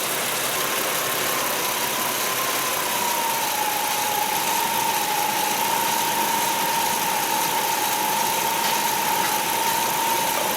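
A car engine idles steadily with the blower, headlights and rear window defogger switched on while a charging system with voltage drops is tested, giving a continuous close drone with a thin whine and no talking.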